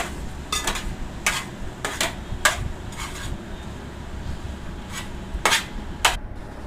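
A spoon scrapes and clinks against a pan while mixing rice into tomato masala for tomato rice, with repeated sharp metallic strokes at an uneven stirring rhythm, close and fairly loud.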